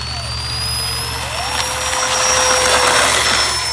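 A twin 64mm EDF E-flite A-10 Thunderbolt II RC jet takes off in a crosswind, its ducted fans a loud, steady whine and rush that swells as the throttle climbs, with high tones gliding upward.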